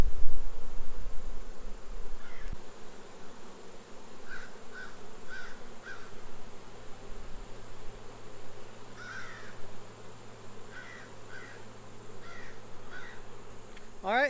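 Honey bees buzzing around an open hive during an inspection, a moderate, wavering drone with repeated short bird calls off in the distance, and a brief knock near the start.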